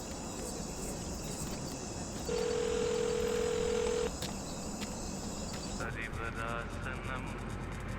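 A telephone rings once with a steady, loud electronic tone lasting about two seconds, set against a constant insect-like background drone.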